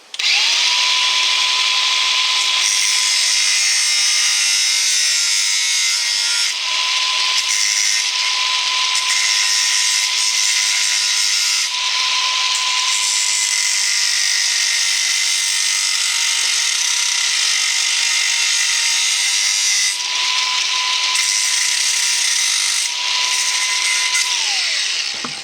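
A power tool shaves the rubber coating off the clamps of Energizer jumper cables, its high motor whine running loud and steady at close range with brief dips as it is eased on and off the work.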